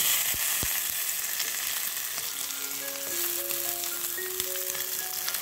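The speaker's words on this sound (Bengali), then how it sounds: "পনিরগুলো আমি ভেজে নিচ্ছি। তো খুব হালকা তেল দিয়েছি, তেল দিয়েই কিন্তু আমি ভাজছি।" Steady crackling sizzle of paneer frying in a little oil, continuous and close, with faint clinks and tones in the background.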